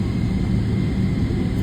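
A Boeing 777 airliner takes off at an airport, heard as a steady, loud, low jet rumble that stays constant across the brief moment.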